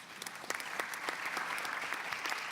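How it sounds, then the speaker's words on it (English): Audience applause at a conference panel on development funding, a steady, dense wash of clapping from a seated crowd lasting a few seconds without talk. "Please give her a round of applause."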